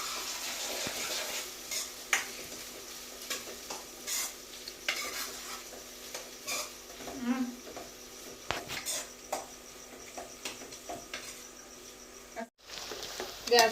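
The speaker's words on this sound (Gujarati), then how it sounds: "થોડીક વાર અમે સળવા દઈએ તેલમાં." Ginger, onion and tomato sizzle in oil in a pan for Mumbai-style pav bhaji, a steady soft frying hiss broken by repeated clinks and scrapes of a stirring spoon, close by with no talk.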